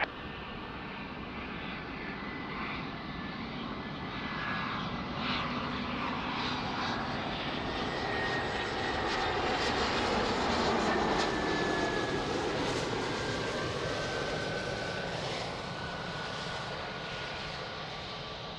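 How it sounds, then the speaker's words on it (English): A private jet at Lisbon Airport roars steadily in a broad engine rush that swells and then fades slightly over nearly twenty seconds, heard from a distance with no talking. "nice private jet"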